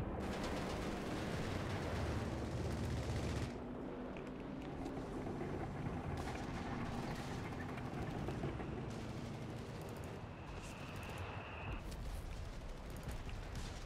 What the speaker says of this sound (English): Nebelwerfer coming on in to burn away a lot of the support equipment.